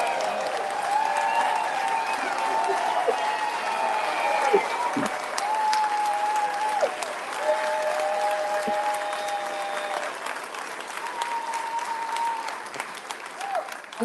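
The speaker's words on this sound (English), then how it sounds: "stand up and give yourselves a round of applause for being here" An audience at a town hall applauds steadily for several seconds, with dense clapping mixed with scattered cheers and voices in the crowd.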